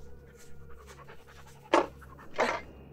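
A dog pants close by with quick, soft breaths, then gives two louder, breathy huffs near the end. No one talks.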